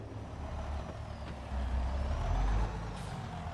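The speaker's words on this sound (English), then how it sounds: "when I'm backing into him with the truck" A truck reverses in the farming video game Farming Simulator, giving a steady low engine rumble that swells midway, with a faint high whine and a brief airy hiss near the end, and no talk.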